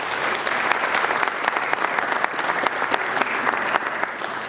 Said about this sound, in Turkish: Bizlerle birlikte olan kıymetli hocalarımıza dua dolu bir alkış istirham ediyorum sizlerden